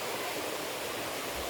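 Constant broadband rushing of a waterfall in Ambon, Maluku, Indonesia fills the whole moment, a dense, even roar with no voices or breaks.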